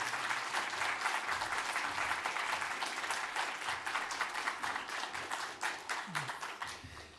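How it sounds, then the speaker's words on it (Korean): Sustained applause from a church congregation during a Sunday worship service, a dense, even patter of many hands clapping throughout, steady and fairly loud, tapering slightly at the end. "우리 박수 한번 여러분들 해주시죠"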